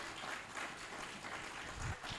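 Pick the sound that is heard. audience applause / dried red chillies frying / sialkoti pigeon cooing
audience applause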